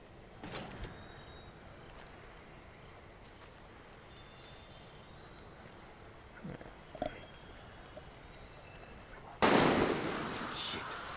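Gunfire in the Far Cry 6 video game: a few scattered sharp cracks, fairly distant, over a quiet ambient bed, then a louder, sustained burst of shots near the end.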